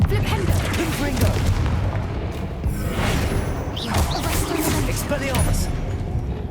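Spell blasts and explosive impacts from Hogwarts Legacy combat, dense booms and whooshes in a continuous loud barrage over game music and effects, with a voice casting spells.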